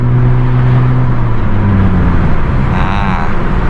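Honda Jazz GK with an AZC titanium exhaust tip accelerating to 3,000-4,000 rpm at road speed: loud, steady engine and exhaust drone close by, with the pitch shifting slightly as it pulls.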